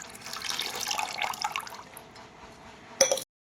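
Water is poured into a pan of melted jaggery while malpua batter is being made, a steady soft splashing that trails off, then one sharp clink before sudden silence.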